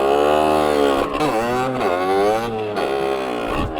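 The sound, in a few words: stock 50cc motorbike engine revving at full throttle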